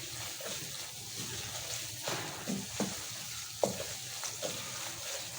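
Besan (gram flour) cooking in a pan after milk is poured in for barfi, giving a steady, close hissing sizzle with a few soft stirring knocks.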